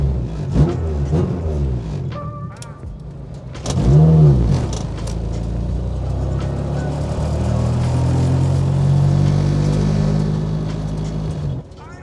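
A car with faulty gears, fourth and fifth not engaging, is driven on a test run. The engine rumbles and revs up and down continuously, with gear-change surges and some clunks close by, while a person talks at times.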